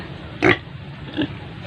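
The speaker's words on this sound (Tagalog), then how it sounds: "punta pa ako dun sa aking alagang baboy" Two short grunts from large farm pigs, the first louder, separated by about half a second over a low steady background hum.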